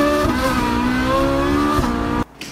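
A dream car's engine revs hard and loud up close, a steady harmonic roar that holds for about two seconds and then cuts off abruptly, leaving only a faint brief tail.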